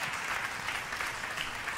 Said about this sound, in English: Everybody clap your hand and give the glory.